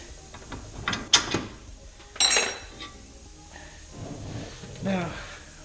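Strut bolts being removed on a 1987 Mustang GT suspension, with a few metallic clinks and ratcheting clicks in irregular bursts, close by and moderately loud, amid quiet workshop background.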